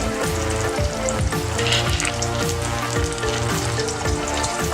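Shellfish frying in shells in a hot pan, a loud, dense, continuous sizzle with faint rhythmic undertones beneath it, close and steady throughout.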